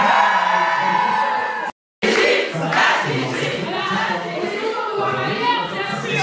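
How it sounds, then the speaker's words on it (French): A large crowd yells and cheers loudly and continuously, with whoops rising above the roar and a brief cut to silence near the start. "Ils hurlent là encore pour Romy. C'est incroyable l'ambiance"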